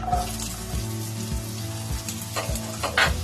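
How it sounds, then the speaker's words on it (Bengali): Steady sizzling of chopped onion frying in oil left from frying rohu fish, close and continuous, with a few soft scraping stir sounds. "পেঁয়াজটা আমি একটু ভেজে নেব।"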